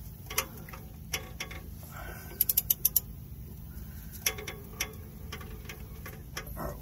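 A 32 millimeter socket turns the engine crank of a 1996-2001 Dodge Ram 1500 5.9L, giving faint, irregular mechanical clicks and ticks with a quick burst of sharper clicks in the middle, in an otherwise quiet space.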